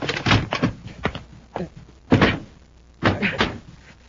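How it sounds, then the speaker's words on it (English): A door is shut during an old-time science-fiction radio drama, landing as a few solid thunks and knocks, close and fairly loud, with short gaps between them. "Shut the door."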